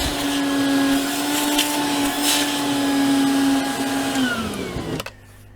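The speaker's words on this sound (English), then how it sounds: "It's good to vacuum the dust up as soon as possible" A vacuum cleaner sucks up dust while a cabinet floor and side panel are installed. It makes a loud, steady motor drone close by, then cuts off abruptly just before the end.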